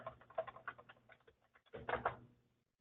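Keys clatter on a computer keyboard as a lender's name is typed into a form: quick, irregular keystrokes, close and fairly soft, with a denser burst near the end and no voices.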